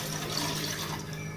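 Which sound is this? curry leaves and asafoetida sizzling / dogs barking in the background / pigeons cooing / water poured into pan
water poured into pan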